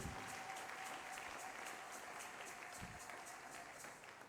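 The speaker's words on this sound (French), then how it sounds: "applaudis le Seigneur Jésus-Christ" A congregation claps together during a Sunday church service, a fairly quiet, continuous round of applause with some rhythmic pulsing, heard from a distance throughout.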